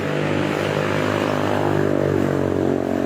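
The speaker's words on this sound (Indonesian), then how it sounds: "dengar bunyi motor dia cantik banget ya" A motorcycle engine drones steadily and loudly, its pitch sliding slightly as it revs, with no voices.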